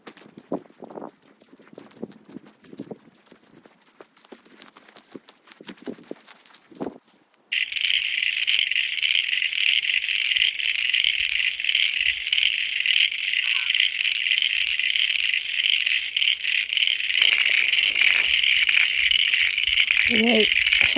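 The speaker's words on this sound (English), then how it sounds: "Frogs are back." A loud, dense chorus of frogs croaks on and on near a rural woodland work site, first as a scattered pulsing chatter and then as a steady shrill trill, with faint movement near the end.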